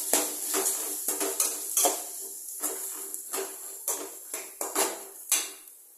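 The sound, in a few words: onions and green chillies sautéing in hot oil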